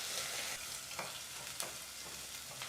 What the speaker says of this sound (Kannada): ಈಗ ಮೀಡಿಯಂ ಫ್ಲೇಮ್ನಲ್ಲೇ 2 ನಿಮಿಷಗಳ ಕಾಲ ಈರುಳ್ಳಿನ ಫ್ರೈ ಮಾಡ್ಕೋಬೇಕಾಗತ್ತೆ.